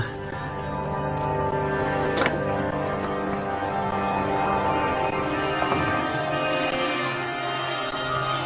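Horse hooves clip-clop steadily and close in a period palace drama, a continuous loud rhythm under a dense, busy background with a sharper clatter or two along the way.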